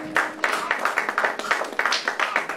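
A church congregation claps in a quick, fairly steady rhythm, with many hands beating together in lively acclaim and a little crowd noise underneath.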